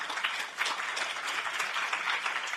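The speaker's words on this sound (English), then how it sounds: "How about a round of applause for our panelists?" An audience applauds conference panelists at an asylum-governance event, with dense, steady clapping filling the room at a constant level throughout.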